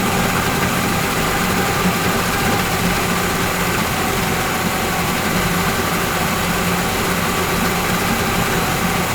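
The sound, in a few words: Yamaha 40 HP two-stroke outboard motor idling after carburetor cleaning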